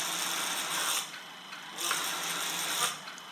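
A WLtoys V911 RC helicopter's small electric motor runs at full throttle, a close, high, buzzing whine with gear chatter that dips and rises as the throttle is cycled, with no talk.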